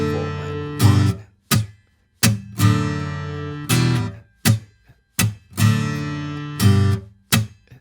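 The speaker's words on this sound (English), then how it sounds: "So the chorus with these muted strums to make it more energetic sounds like this." Acoustic guitar plays the chorus chords of a song, ringing strums punctuated by sharp percussive muted strums in an energetic, rhythmic pattern, close and loud with no talking.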